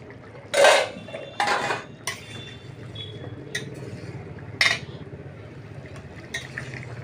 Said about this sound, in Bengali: আমি এবার ঢাকাটা খুলছি।